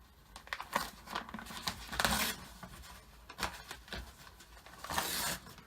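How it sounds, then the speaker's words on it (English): Embroidery stabilizer is torn and peeled away from a sewn zippered fabric bag in several quiet, separate bursts of crinkly ripping and rustling, with short pauses between pulls. "I'm going to pull the rest of this stabilizer off here, get it off this top section"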